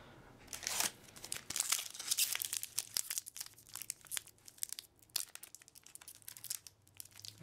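A Magic: The Gathering Gatecrash booster pack wrapper being torn open, with continuous close crinkling and tearing foil plastic and sharp crackles throughout.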